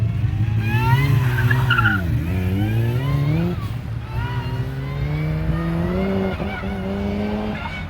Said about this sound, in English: There's the blow off and the whine of the supercharger.